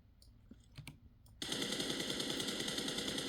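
After quiet clicking, a sustained burst of automatic M416 rifle fire in a video game starts abruptly and keeps rattling rapidly and steadily to the end.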